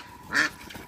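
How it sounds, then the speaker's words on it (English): A single short duck quack at a farm animal sanctuary after a storm, close and fairly loud, rising briefly out of quiet outdoor background. "how you doing, Rebel Duck?"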